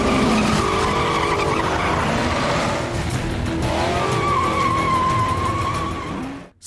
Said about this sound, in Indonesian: mobil cutter mengejar JJ dengan kecepatan penuh berusaha untuk membunuhnya